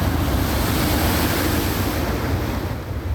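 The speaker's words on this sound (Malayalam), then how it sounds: "ഭീതിയും ആശങ്കയുമായാണ് ഈ തിരമാലകൾ തീരദേശവാസികളുടെ വീടുകൾക്ക് സമീപത്തേക്ക് ഇരച്ചു കയറുന്നത്" Sea waves surging onto an eroding coast near houses during rough weather, a steady loud roar of surf with wind buffeting the microphone, continuous and close.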